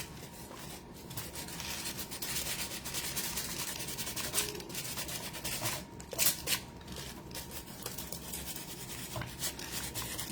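Sandpaper rubbing over a hardened clay ghost sculpture, a quiet, continuous scratchy friction in uneven back-and-forth strokes, close by.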